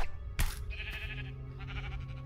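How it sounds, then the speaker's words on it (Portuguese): Sheep in Minecraft Story Mode give short, faint bleats amid soft game ambience, with a sharp burst near the start and a quieter tonal cry following. "Ele não sabe o que é uma ovelha."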